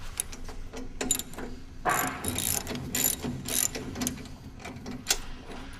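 A ratchet works loose the shaft bolts on a 200 mm wound energy recovery cassette, with quick repeated clicking bursts up close, some brief and some sustained.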